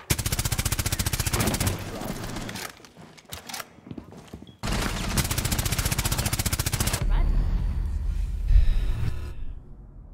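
Rapid bursts of automatic gunfire in a tactical shooter match on the Coastline map, fired through a wall from a bathroom, loud and sustained in two long volleys with a short pause, then quieter scattered shots and movement.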